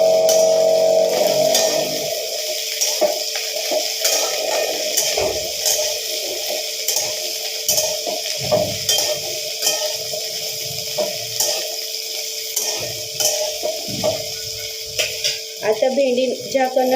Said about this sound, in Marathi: आता भेंडी झाकण न ठेवता छान फ्राय करून घेऊया।